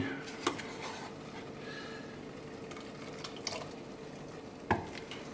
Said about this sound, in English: the reason why we keep stirring it like this is to draw as much starch out of the rice as possible